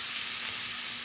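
Food frying in a pan on a home stove gives a steady, loud, close hiss and sizzle, with no talk over it.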